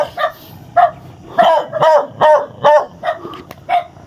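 A dog barks and yelps repeatedly, about eight loud, close, strained barks in an uneven rhythm with slight whimpering between them.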